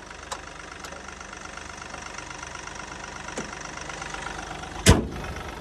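A Mahindra Bolero Neo SUV engine, one with a recent starting fault, idles steadily at close range with a constant mid-pitched hum and a few faint clicks, then a sharp brief knock near the end.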